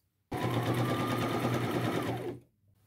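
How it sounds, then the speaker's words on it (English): A sewing machine runs a straight stitch with a quarter inch seam through T-shirt fabric, a single close, steady whirring burst of about two seconds that starts abruptly and then winds down to silence. "I am going to do a straight stitch with a quarter inch seam allowance."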